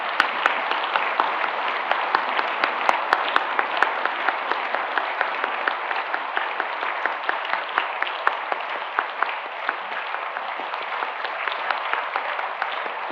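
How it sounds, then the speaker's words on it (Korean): Steady applause from a church congregation during a pastor's installation ceremony, dense even clapping sustained throughout at moderate loudness with no voices over it. "박수 한번 크게 치겠습니다"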